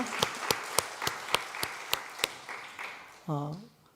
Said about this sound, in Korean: 그 모든 감사와 찬양 우리 하나님께 영광의 박수 한번 올려드리도록 하겠습니다